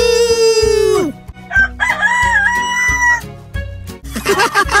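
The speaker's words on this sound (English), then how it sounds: "Cock-a-doodle-doo!" A cartoon rooster on a farm gives a loud, drawn-out cock-a-doodle-doo crow at the start, followed by music and sound effects.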